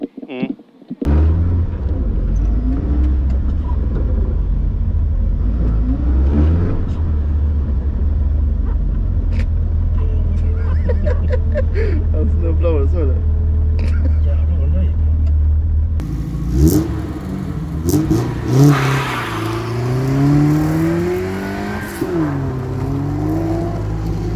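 A Volvo 240 rally car roars through a practice run, its engine note holding steady before surging into harder, rising bursts of acceleration near the end, with voices talking over the din.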